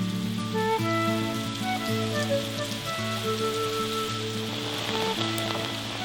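A sudden rain shower pours onto a 300-year-old traditional house, a steady close patter and hiss of drops heard under calm, melodic background music.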